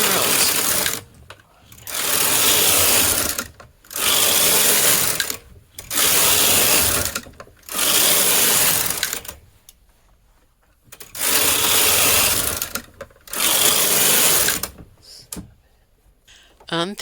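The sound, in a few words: knitting machine carriage knitting rows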